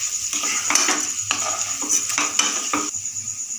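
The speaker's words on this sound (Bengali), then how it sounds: "চালটাকে একটু ফ্রাই করে নেব।" Rice for Basanti polao fries in a pan with whole spices including cloves, a spatula scraping and stirring it in repeated close strokes over a continuous sizzle, with no voices.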